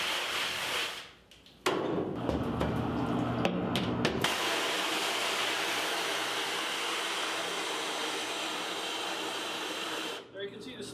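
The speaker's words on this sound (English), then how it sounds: "I'm going to wash this out. What you do to wash it out: wet one side, and then wet the other." Water sprays hard onto a screen printing screen as it is rinsed out, a steady hissing wash that runs for several seconds after a few short splashes, then cuts off near the end.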